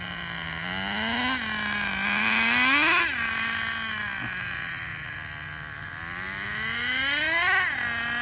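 An HPI Super Nitro RS4 nitro RC car engine runs close by during break-in, a high buzzing whine that rises and falls in repeated revving sweeps.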